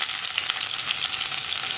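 Onions frying in hot coconut oil after mustard seeds have popped, a steady close sizzle with fine crackling throughout, no talk.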